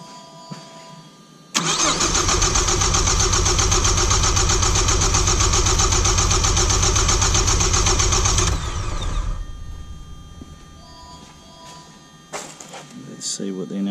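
A four-cylinder car engine cranks steadily during a relative compression test for several seconds with a fast, even whirring rhythm, loud and close, then stops; faint rattles and clicks follow.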